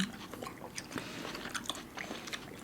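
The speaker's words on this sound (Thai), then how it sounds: "เวลาเรากัดเข้าปาก ความรู้สึกเหมือนแบบ น้ำจะแตกระเบิดอยู่ในข้างในฟลุบ" Quiet, close chewing and crunching as someone bites into a chilled, juicy Japanese melon from a farm in Chonburi, with soft wet bites repeating every fraction of a second.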